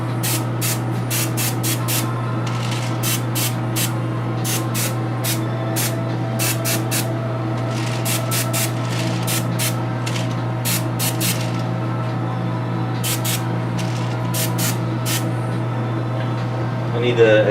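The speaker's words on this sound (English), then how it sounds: "I'm going to spray far away and kind of just try to speckle it a bit" Airbrush spraying paint speckles onto a miniature from a distance, short repeated hissing bursts of varying length over a steady low compressor hum, with a person talking through much of it.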